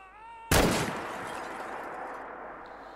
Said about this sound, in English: I can hear a turret, I just can't see it.